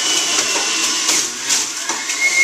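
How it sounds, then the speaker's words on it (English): Electric juicer pressing lemons, a steady broadband whirring and grinding that holds close and loud throughout with slight surges, no voices. "So juice your lemons first."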